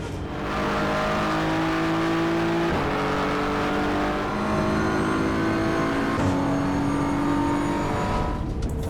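Onboard engine note of a GT3 race car in the sim racing game Assetto Corsa EVO, a loud steady drone that holds pitch, then shifts at gear changes around three and six seconds, with no talk.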